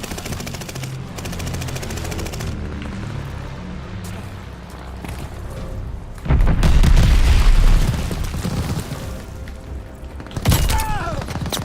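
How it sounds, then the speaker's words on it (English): Friendly bombing run in Call of Duty: rapid machine-gun fire rattles over the opening seconds, then heavy, deep explosions roll in and boom loudly for a couple of seconds, followed by more gunfire and a final sharp blast. "Friendly bombing run inbound."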